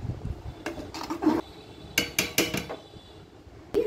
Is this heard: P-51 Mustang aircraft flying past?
no